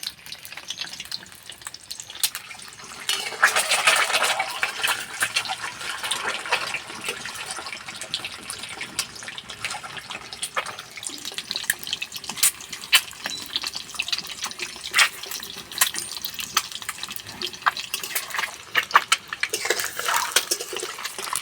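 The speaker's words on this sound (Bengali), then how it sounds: "ডিম বেশি লাল লাল করে ভাজবো না হালকা লাল করে ভেজে নেব" Eggs fry in hot oil in a pan for egg pulao, making a continuous close crackling sizzle with frequent sharp pops and spits that swell and ease, with no one talking.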